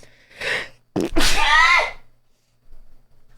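A single loud, close sneeze from a man in the back of an Uber, preceded by a short sharp inhale and followed by quiet.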